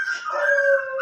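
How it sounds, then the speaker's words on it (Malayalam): Dogs in the Minecraft video game let out a single sustained, mournful howl lasting about a second, clear and fairly loud with no speech over it. "ഭയങ്കര ശല്യം ഗൈസ്, പട്ടികളെ കൊണ്ട്"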